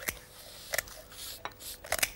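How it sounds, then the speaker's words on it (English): Scissors snipping through a cooked duck carcass, giving several sharp crunchy cuts in irregular bursts at close range, with faint rustling between the snips. "you cut both sides of your carcass"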